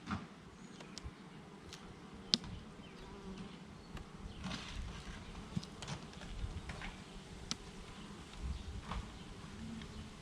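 Honeybees humming steadily inside an opened hive that may hold laying workers, a sparse colony filling the clip with a close, continuous buzz and a few sharp clicks and knocks.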